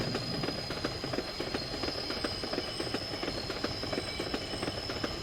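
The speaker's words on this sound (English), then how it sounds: "I've got to stop this train." Video game train running on rails with a steady, rapid clickety-clack of wheels over track joints, loud and continuous under a high metallic whine.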